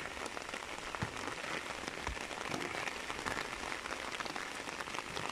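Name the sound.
rain falling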